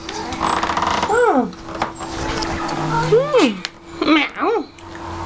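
A house cat meows repeatedly to greet its owner on her return home, several rising-and-falling meows close by, with someone talking to it in between.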